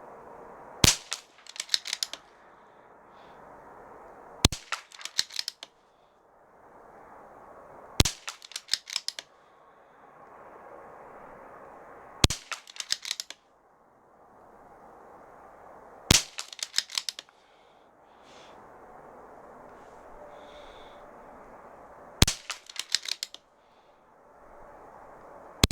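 Gunfire during cold weather ammunition testing at a range of targets: six sharp, loud shots spaced a few seconds apart, each followed by quick echoing cracks, with quiet outdoor hiss between, no talking.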